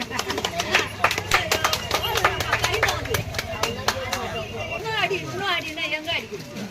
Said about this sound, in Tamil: நல்ல ஒரு கைத்தட்டல் கொடுக்கலாமே